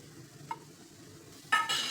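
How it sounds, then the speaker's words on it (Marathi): Thick coconut vadi mixture being stirred in a pan over a low flame, one soft scrape early on, then a louder, sustained hissing scrape near the end, quiet and close with no voices. "तरी आपल्याला अजून लो फ्लेमवरती 5 मिनिट असं हलवायचं आहे"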